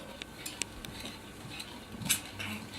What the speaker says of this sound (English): Stir a little.